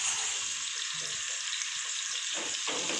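Onions fry in hot oil for a half-kilo mutton dum biryani, giving a loud, continuous, close sizzle with faint stirring underneath.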